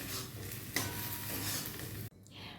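A spoon stirs radish dal, finished with coriander leaves, in a hot pan. A close, steady sizzling scrape continues, then stops abruptly near the end.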